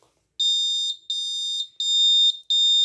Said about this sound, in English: gas alert and fire alert